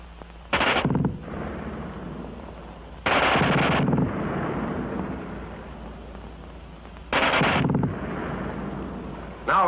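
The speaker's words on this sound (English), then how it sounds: "who can't get over the fast burp of that German gun" Bursts of rapid German machine-gun fire in WWII combat, three loud sustained volleys each about a second long, separated by a steady rumbling background of distant battle noise.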